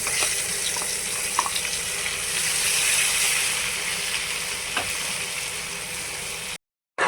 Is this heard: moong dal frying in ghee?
yes